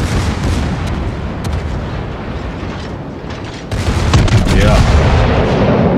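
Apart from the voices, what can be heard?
battleship guns firing in a video game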